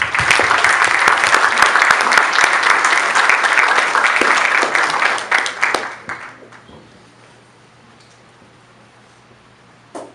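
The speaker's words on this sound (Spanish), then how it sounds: "Quiero que le demos un fuerte aplauso al doctor Aníbal Antonio Avelar." Loud, dense audience applause greets a doctor introduced as a speaker at a talk on human aging, sustained for several seconds before thinning out and fading into near silence in the hall.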